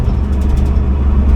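A farm truck with a slant-six engine, three-on-the-tree shifter and 3.92 gears rumbles steadily while driving, its low engine drone loud and close, with no talking.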